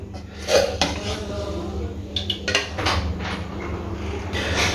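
Metal spoon scraping and clinking against a pot as Hyderabadi chicken degi pulao is dished onto a plate, a run of close, fairly loud kitchen clatters and knocks.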